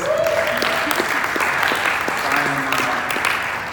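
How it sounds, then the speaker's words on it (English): An audience applauds at a talk event, a dense continuous burst of clapping filling the room, with some voices mixed into the crowd noise. "Give yourself a round of applause, please."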